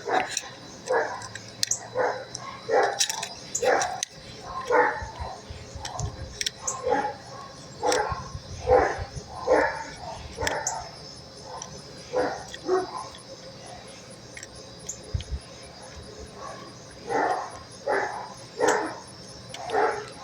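Neighbors' dogs bark repeatedly in bursts, some yips mixed in, moderately close with short pauses between volleys, during carburetor work.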